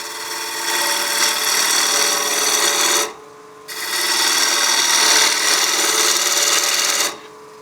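A wood turning tool cuts a spinning wooden block on a lathe, giving a close, continuous raspy scraping in two long passes separated by a short pause while the motor keeps humming.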